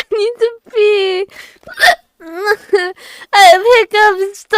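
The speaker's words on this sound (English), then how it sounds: "I have hiccups." A person hiccups repeatedly at close range, producing sharp, voiced catches in irregular bursts that are mixed with strained vocal sounds.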